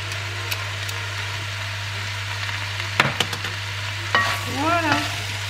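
Sausage stir-frying in a pan gives a steady sizzle over a constant low hum, broken by a few sharp utensil scrapes and clinks near the middle and end.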